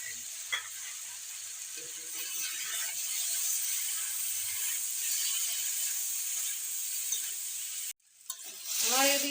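Vegetables for Bengali shukto sautéing in a pan with mustard and poppy seed paste, a steady close sizzle with scraping stirs throughout, cut off briefly near the end before a louder burst of frying.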